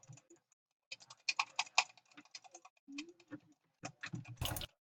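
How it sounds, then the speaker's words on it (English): A computer mouse is clicked in rapid, uneven bursts while playing Cookie Clicker, producing close, crisp clicks that cluster and pause, fairly quiet overall. "Come on, keep clicking."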